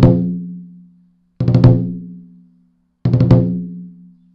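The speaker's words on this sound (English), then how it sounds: "A ruff should sound like this." Drum ruff strokes for lion dance music, played on a drum: three separate bursts, each a tight cluster of quick strikes with a strong final hit, ringing and decaying before the next, loud and close with no talk.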